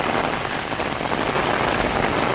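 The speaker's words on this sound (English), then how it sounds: "But yeah, it's been raining so hard today." Heavy rain pours down in bad weather, a dense, steady hiss of drops hitting surfaces close by, loud and unbroken throughout with no voices.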